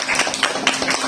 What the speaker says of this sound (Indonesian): Oke, tepuk tangannya dong.